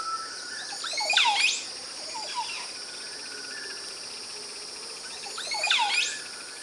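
Montezuma oropendolas in a Costa Rican forest give two loud, liquid gurgling calls with rising and falling sweeps, one near the start and one near the end, over a steady insect hum.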